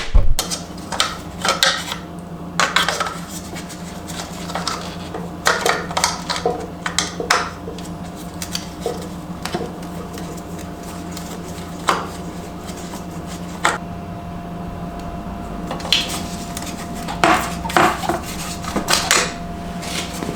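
A Sherco motorcycle cooling fan with a loose, worn fit rattles and clatters in irregular bursts over a steady low hum, close and fairly loud throughout with no talk.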